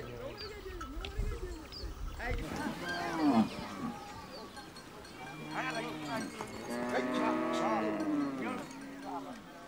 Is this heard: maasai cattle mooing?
yes